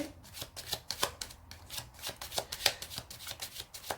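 Tarot cards being shuffled by hand, a rapid uneven run of soft slaps and riffling flicks continuing for several seconds, close and fairly quiet, with no talking.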